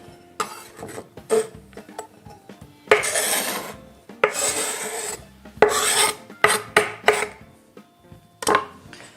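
Shredded chicken meat is added to a salad bowl, giving a run of close, uneven scraping and rubbing bursts with brief pauses, like a utensil dragging against the dish.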